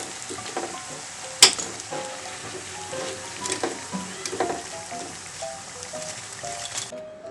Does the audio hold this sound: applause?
no